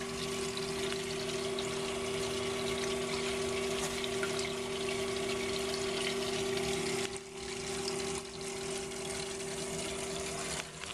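A reef aquarium's pump and plumbing run with a steady low hum and a soft, continuous trickle of flowing water, quiet and unbroken apart from one brief dip.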